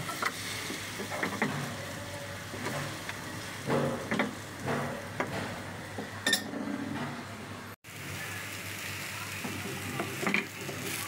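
Jal pantua sweets fry in a little oil in a pan, with a soft steady sizzle, scattered scrapes and stirring clinks, and one brief sharp clatter partway through.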